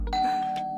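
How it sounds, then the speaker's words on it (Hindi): A doorbell rings once with a sustained electronic ding tone, loud and close, holding steadily for nearly a second with no talk over it. "जिंदगी में पहली बार इतना मजा आ रहा है डोरबेल बजने से"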